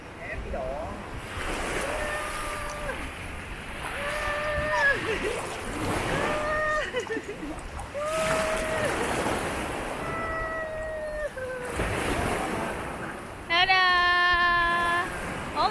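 Ocean waves wash onto a beach in steady surges beneath voices and talk nearby, with a shrill, harmonic-rich squeaky sound near the end.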